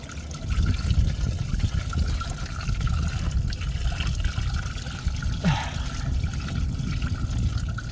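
Coolant trickles steadily out of an opened radiator petcock on a Saturn Sky, a continuous close-up dribble of liquid with a low rumbling bed beneath it.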